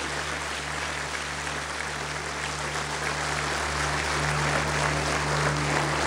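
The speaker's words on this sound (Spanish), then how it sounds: "Denle un aplauso fuerte al Señor." A church congregation applauds in a steady, dense wash of clapping that swells slightly toward the end, with a low electrical hum beneath and no talking.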